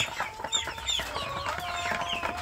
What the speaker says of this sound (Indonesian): itu ada suara anak ayam kampung yang kecil itu belum saya beri makan di dalam kandang ini ya